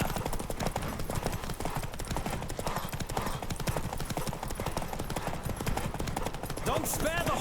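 Hoofbeats of a horse galloping hard in a race in The Witcher 3, a steady rapid clip-clop with dense game music and effects underneath, voices shouting over it.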